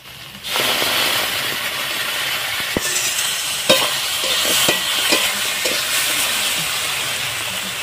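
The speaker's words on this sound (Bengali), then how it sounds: "আমি এখন মশলাটা সুন্দর করে কষিয়ে নিচ্ছি" A ground paste of cumin, ginger and chili fries for a rohu fish curry, giving a loud, steady sizzle that starts suddenly and is broken by scattered scraping stirs, with no talking.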